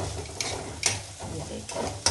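Poha with peas being stirred in a pan, heard as soft scraping and stirring strokes with light sizzling and a few sharper spoon clicks against the pan, close and fairly quiet.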